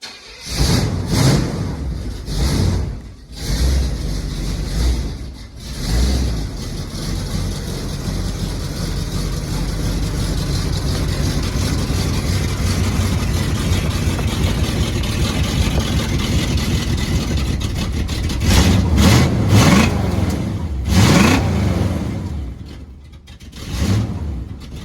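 A car engine with a freshly fitted, leaky exhaust idles and revs, rumbling loud and steady for about twenty seconds, with sharper rises in throttle near the start and end and short dips between.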